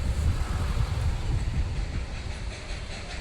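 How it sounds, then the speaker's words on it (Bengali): A train passes on a hillside line in Darjeeling during early monsoon, heard as a continuous low rumble and broad rushing noise that holds steady throughout. "ওই যে ট্রেনটা যাচ্ছে, ওই উপর দিয়ে যাচ্ছে।"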